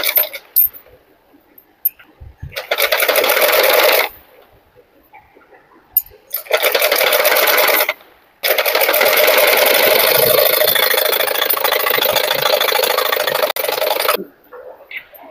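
Tailor's sewing machine stitching a blouse seam with a half-inch allowance, running in loud rapid bursts of whirring needle chatter separated by short pauses, close up.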